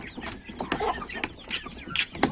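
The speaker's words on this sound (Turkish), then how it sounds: "bir horoz çıktı arkadaşlar" Backyard chickens, including a young rooster, cluck in short, close, lively bursts of varied calls.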